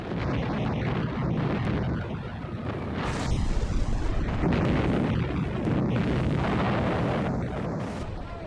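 Heavy wartime bombardment pounds German defensive positions on the coast ahead of a beach assault, a continuous dense roar of explosions and rumbling blasts with wind-like noise, loud and unbroken throughout.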